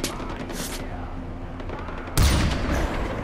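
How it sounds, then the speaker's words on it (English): Gunfire in the video game Far Cry 4 on a free-airport mission: steady game noise and background action, then a loud sudden blast or burst of shots near the end, sustained and dense. "Willis, where are you being shot from?"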